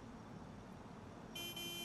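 A car horn in the video game GTA IV sounds a sustained, bright honk near the end, breaking into a brief double blast after quiet street ambience.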